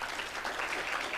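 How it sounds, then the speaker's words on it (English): Applause for presenters at an evening honors program event, a short, steady wash of clapping from a seated audience with no voices over it. "can we get another round of applause for the presenters tonight?"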